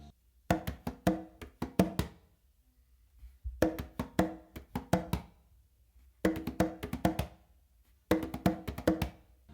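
Conga patterns played in short bursts of rapid strokes, with deep bass tones among sharper hits, separated by brief silences; close and clear, no talking.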